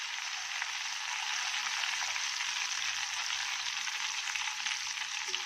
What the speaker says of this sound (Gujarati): હવે એને ક્રિસ્પી તળી લઈએ.